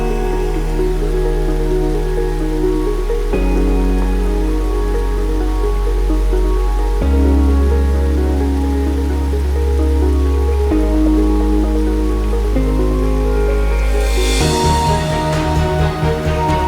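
Dukkarkada waterfall near Kolhapur, with monsoon rainwater falling from the mountains over large rocks, makes a continuous broad rushing roar that runs steadily throughout beneath background music, with no speech.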